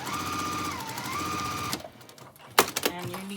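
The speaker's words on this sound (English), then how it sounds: "So now I'm going to stitch all the way around with a 1/4-inch seam." A sewing machine runs a steady quarter-inch seam around a patchwork zipper pouch, a continuous close whir for nearly two seconds, then stops, followed by a few handling clicks and a brief faint hum.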